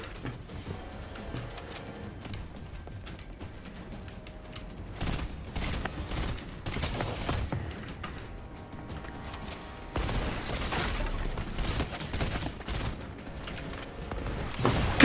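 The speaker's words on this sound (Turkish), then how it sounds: "Adam 3 tane roket atarak beni öldürdü" Explosive bursts and blasts of rockets striking the player in a crowded Fortnite battle royale match, arriving as several loud hits in the second half over a steady game background.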